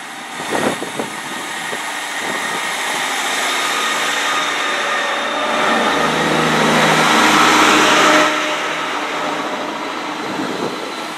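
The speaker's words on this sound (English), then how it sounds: "Class 158 First Great Western service departing." A two-coach Class 158 First Great Western diesel train pulls away from a station platform, its engine drone and rolling rumble building steadily and loudly over several seconds, with a brief clank near the start.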